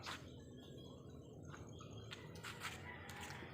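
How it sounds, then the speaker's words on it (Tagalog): Pet chickens at a home in Cuenca cluck and call steadily, with a rooster crow rising through the flock noise, close by in an outdoor yard with insects buzzing faintly. "Ito nga ang mga alagang manok."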